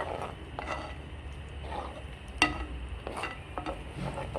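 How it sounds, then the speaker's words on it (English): A utensil stirs cheese into lasagna sauce in a pan over low heat, making repeated soft scraping strokes and one sharper clink over a low, steady sizzle, with no one talking. "And you're going to add in your cheese. And you're going to stir this."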